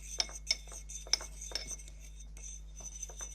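A utensil stirring water into glue in a plastic or glass container to make slime, with sharp clinks and scrapes at an irregular rhythm over a low steady hum, up close and with no talking.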